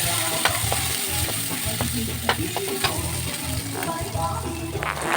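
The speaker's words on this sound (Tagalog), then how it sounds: "Isunod natin ang ating sibuyas mga idol, mga kapobre. Ayan, sibuyas." Onions sizzle steadily in a hot frying pan with garlic, with crackling frying noise throughout and a few sharp clinks and scrapes of a utensil against the pan.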